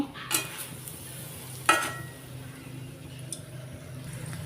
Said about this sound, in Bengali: হালকা একটু সর্ষার তেল কড়াইতে গরম করতে দিয়েছি তো দেখো দিয়ে দিচ্ছি তেলের মধ্যে আর এদিকে আর একটা পরোটাও এর মধ্যে দিয়ে দিয়েছি